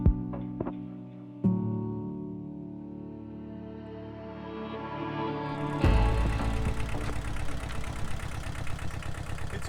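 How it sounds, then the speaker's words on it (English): A tractor mowing grass on an off-grid homestead in Portugal, its engine idling at first, then after a loud jolt it revs up into a strong, steady running drone close by, with no voices. "It's always a good start to the day when I get to go out on the tractor, mow the grass"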